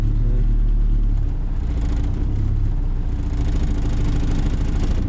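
A turbocharged Honda Integra with a B20V engine idles with a heavy, steady low rumble and clatter as the clutch is eased out, the engine note dipping and shuddering at close range with no talk.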